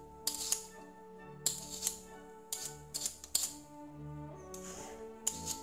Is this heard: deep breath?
no